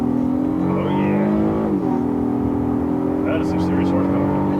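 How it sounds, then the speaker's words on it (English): A Honda Passport SUV engine accelerates hard with a steady rising drone that dips briefly as it shifts gears, heard from inside the cabin with people talking over it. "That is some serious horsepower. And you can hear that,"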